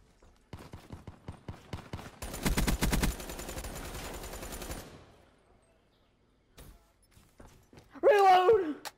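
Rapid automatic gunfire in a one-on-one video game gun duel, a dense loud burst of shots lasting a couple of seconds amid scattered single pops, then quiet before a voice shouts near the end.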